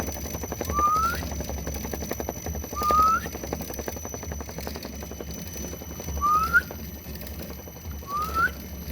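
A heterodyne radio receiver picking up a gravity broadcast gives four short rising whistle tones, evenly spaced about every two seconds, over a steady hiss and low hum.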